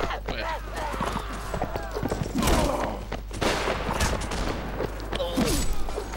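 Rapid gunfire bursts and clattering hoof-like thuds in a war video game, dense and loud across the whole stretch, with a voice talking over the fighting.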